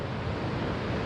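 Big ocean waves roll in to shore, a steady broad wash of surf with wind noise, continuous and fairly loud throughout, with no talking.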